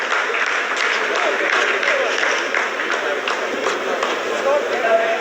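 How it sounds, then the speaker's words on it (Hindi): Scientists at mission control applauding during the Chandrayaan-3 lunar landing, a dense, loud, continuous roll of clapping from a large room that carries on without pause. "आप इस तालियों के गड़गड़ाहट को सुन सकते हैं"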